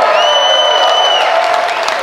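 Excited crowd at the Tesla Model 3 unveiling cheers and whoops loudly and steadily, with applause and shouting blended into a continuous roar for two seconds.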